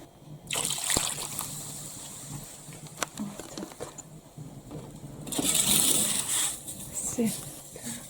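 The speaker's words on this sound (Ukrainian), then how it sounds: "бачите, ще трошки треба водички додати" Water is poured into a cooking pot for a village supper, in two splashy bursts, one short and early, another longer later, with quieter clinks and trickles between them.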